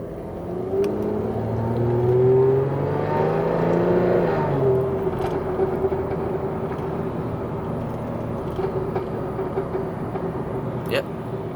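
A Mercedes-Benz C300 (W204) with a modified exhaust revs up and falls back, its rising and falling drone followed by a steady idle with scattered sharp pops and crackles from the exhaust, slight at low RPM.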